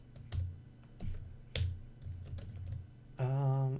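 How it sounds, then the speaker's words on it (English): Someone types on a computer keyboard at close range, with irregular clicks and a few sharper key presses, before a brief tonal hum comes in at the end. "Actually, I'll type it out."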